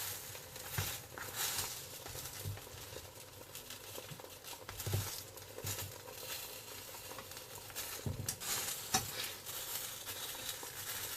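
Vietnamese bánh xèo crepe batter fries in a pan over low heat, giving a soft, steady close-up sizzle with occasional small crackling pops.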